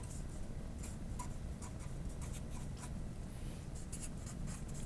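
Steady pen or marker scratching across a writing surface during a math lesson on slant asymptotes: a continuous, close rubbing texture with small ticks and no speech.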